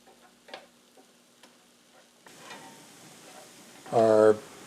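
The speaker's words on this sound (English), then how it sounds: "Into our frying pan went the other raw green onion and peppers." Raw green onions, peppers and chopped ham frying in a pan for breakfast hash start a soft, low sizzle partway through after a near-quiet opening with faint taps, then a brief louder tonal burst near the end.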